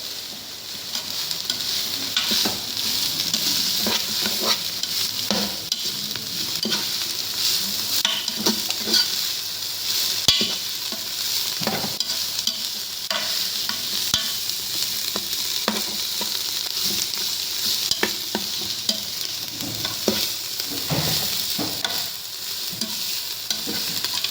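Cabbage frying in a pan is stirred continuously, giving a loud, steady sizzle with frequent scraping and clattering strokes of the spatula and no voices.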